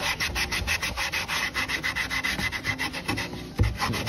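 A Statim 2000 Classic sterilizer cassette handle being scrubbed with cleaner, giving a steady close rubbing and brushing sound in quick repeated strokes with one brief bump near the end.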